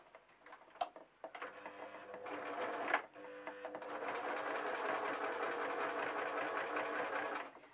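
Sewing machine stitching fur fabric for a sheep door stop, a few short stop-start bursts, then a long continuous close whir of stitching.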